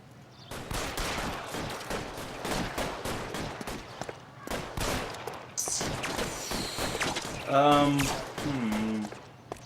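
Rapid bursts from a Thompson submachine gun in the 1940s police game L.A. Noire, loud close volleys in quick succession, with shouting voices and other game sounds mixed in near the end.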